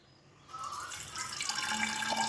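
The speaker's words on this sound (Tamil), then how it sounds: "இப்போ இந்த தண்ணியை நம்ம அப்படியே பாட்டிலுக்குள்ளே ஊற்றிடலாம்." Water splashing and trickling steadily into a copper bottle, starting abruptly after a brief quiet moment and growing slightly fuller as it fills.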